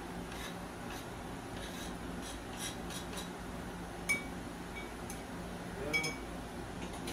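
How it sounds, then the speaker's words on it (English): Quiet scraping and soft clinks of a utensil against a dish, with occasional light taps over a low background hum in a home kitchen, faint and intermittent. "Stir it."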